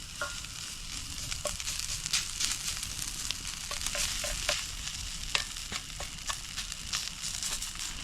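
Day-old rice with garlic and curry being fried and stirred in a cast iron pan at a campsite, a dense continuous sizzle with frequent scraping and clicking from the utensil.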